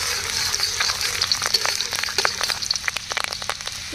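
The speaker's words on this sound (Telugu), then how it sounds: "ఇదిగోండి కట్ చేసుకున్న వెల్లుల్లి వేసేసుకోవాలి." Chopped garlic fries in oil left over from frying chicken, a fairly soft, continuous sizzle with irregular crackles and pops throughout.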